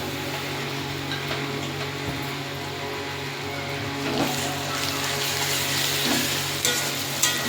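Onions fry in oil for a masala chicken, with ginger and garlic paste going in, a moderate continuous sizzle with occasional stirring scrapes and a few louder bursts toward the end.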